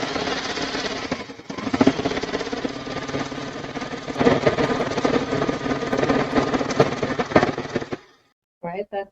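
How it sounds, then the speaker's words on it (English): A sewing machine stitches a T-shirt sleeve hem half an inch from the edge, giving a steady, loud mechanical whir that runs nearly unbroken for about eight seconds before stopping, with a brief burst of sound after. "I'm sewing 1/2 inch from the edge of the bottom of the sleeve"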